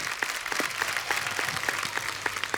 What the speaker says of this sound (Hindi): जोरदार तालियां एक बार राज सर और जया मैम के लिए।